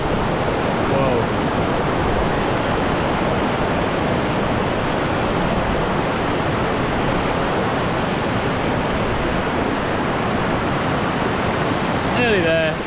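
River water rushes loudly and steadily during a mountain river crossing on the Ben Nevis CMD Arête route, a broad continuous roar that fills the whole stretch at close range.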